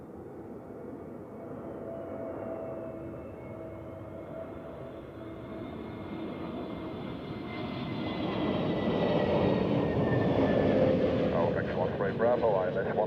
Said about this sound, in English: And on final, Speedbird, British Airways, an A321neo from London Heathrow.